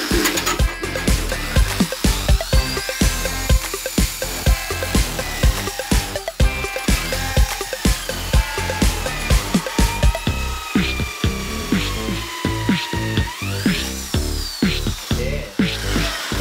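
A power drill fitted with an adjustable-size bit spins at high speed and bores into a surface, whining with rising and falling pitch amid rattling, grinding bursts. It runs continuously and close up.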